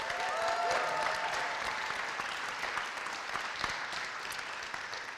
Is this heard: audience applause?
yes